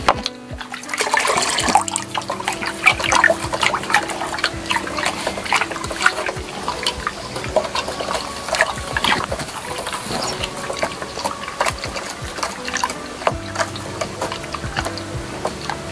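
A mixture stirred into 5 liters of water for treating chili plants, with continuous sloshing and trickling liquid sounds close by, running steadily over a busy tonal background throughout.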